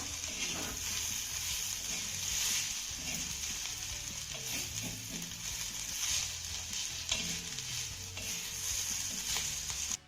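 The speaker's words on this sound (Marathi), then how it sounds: "यावरच मी झाकण काढतीये त्याला छान मिक्स करून घेऊया" Spicy village-style raw potato thecha is stirred in a hot pan just after the lid comes off, with a continuous close sizzle and frying crackle under soft scraping strokes throughout.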